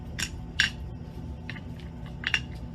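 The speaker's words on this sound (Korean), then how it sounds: "남는 하얀 색깔 돌도 넣어줄게요." Small white stones dropped one by one into a planter: a handful of light, close clicks and taps spaced irregularly, each short and crisp over a quiet room background.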